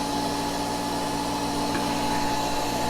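Sun Joe 14 amp electric wood chipper running steadily, a loud continuous motor whine with a constant hum, close by with no one speaking.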